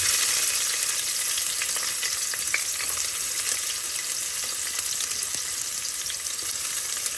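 Steady, loud sizzling of onions frying in hot oil, a constant crackling hiss throughout with small pops, close by and without speech.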